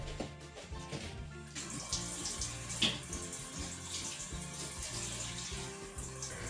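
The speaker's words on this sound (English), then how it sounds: "Next, you need to rinse the shower with running water" Water runs steadily from a tap to rinse a shower, a soft continuous splashing and hiss, faint with a low rhythmic background underneath.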